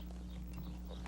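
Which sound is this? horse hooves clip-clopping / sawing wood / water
horse hooves clip-clopping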